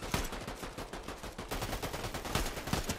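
Warforged Assault Rifle fire in Fortnite, rapid continuous automatic bursts in a dense steady rhythm, loud and close, with no talk.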